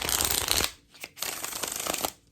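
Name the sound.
shuffling Magic the Gathering cards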